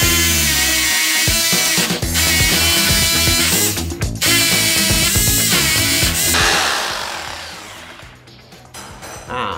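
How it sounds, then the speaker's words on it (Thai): Power drill boring an anchor hole into a concrete floor, with a loud, close grinding whine that runs almost continuously, pauses briefly a couple of times, then winds down toward the end. "ถ้าเกิดเราเจาะรูในแนวพื้นนะครับ"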